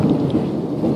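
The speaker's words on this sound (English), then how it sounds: "We're getting to the end of this hail." A hail storm with thunder, a dense, loud, continuous low rumble and roar of heavy falling hail and rain, steady throughout with no voices.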